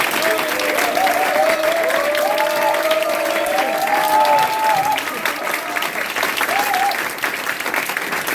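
An audience at a party youth committee launch ceremony claps steadily, a dense, even wash of applause filling the room while a voice talks over it in the first half.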